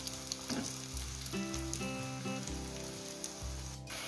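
Eggplant slices sizzle and crackle steadily in oil in a pan as they fry, with a few clinks and soft scraping over a faint musical background.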